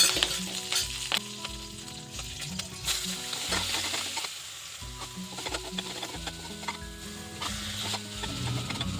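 Mustard seeds, cumin, curry leaves, green chili, onion and tomato sizzle and fry in a pan, with steady close hissing and repeated clacks of a spoon stirring throughout.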